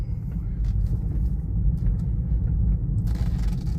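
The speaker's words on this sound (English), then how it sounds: "All you hear is the tires in this rough parking lot" A 2018 Tesla Model 3 Long Range electric car rolls over a rough parking lot, its tires giving a steady loud low rumble with no engine noise, continuous throughout.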